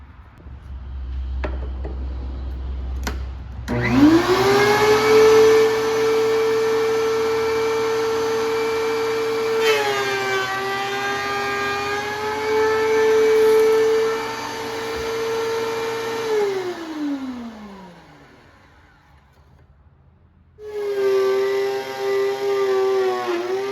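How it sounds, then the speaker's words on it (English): A wood planer machine spinning up into a loud, steady tonal whine with a hum underneath while an epoxy resin serving board is run through, winding down, then starting up again near the end. "We're going to run this through a planer and then we will trim the edges before we sand it down."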